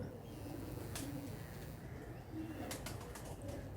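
Pigeons kept by a fancier coo softly and repeatedly in a loft, low murmuring calls running steadily under faint background noise.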